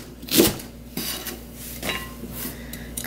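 A knife cuts green onion into coarse chunks on a cutting board, producing a few spaced, close thuds with a light scraping texture between them, no voices present.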